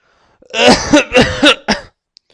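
A person coughs several times in a row, four rough bursts close to the microphone, then falls silent.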